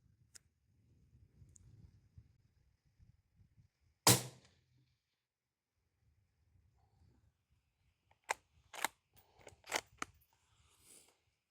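A 5.56 bolt-action rifle fitted with a Ramble Man suppressor, fired outdoors: one sharp muffled crack stands alone in quiet surroundings, followed seconds later by a quick cluster of fainter sharp clicks.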